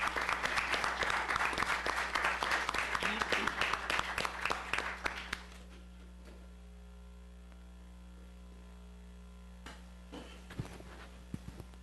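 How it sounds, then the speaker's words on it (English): A round of applause at a city council meeting, with dense clapping for about five seconds that stops abruptly, leaving a steady mains hum and a few faint thumps from the chamber. "Let's give him a round of applause, please."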